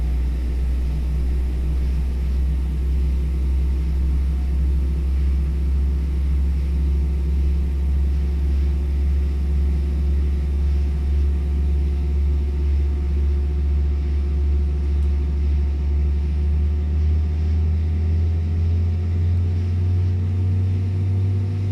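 An Airbus A319 engine from a flight simulator sound pack gives a loud, steady, deep droning rumble for over twenty seconds, with a tone that slowly rises near the end.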